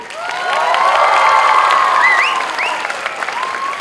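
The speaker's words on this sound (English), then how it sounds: "A round of applause for our lovely, lovely School Learners Academy." Loud applause and cheering from a school crowd at the Learning Academy's 33rd annual day function, dense clapping swelling under high shouts and whoops from children, then easing slightly toward the end.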